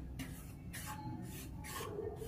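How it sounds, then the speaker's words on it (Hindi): Dry wheat flour being stirred and roasted in a pan over a very low flame, with no ghee or milk added, giving a steady close scraping and rasping that rises in repeated strokes under light background noise. "इसको हम ऐसे चलाते हुए भूनते रहेंगे"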